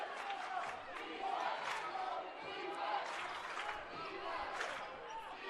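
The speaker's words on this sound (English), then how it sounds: "Here we got the crowd going crazy" Basketball crowd at a Central Methodist vs Peru State conference tournament game roars and cheers continuously, a dense wash of many voices with occasional louder swells.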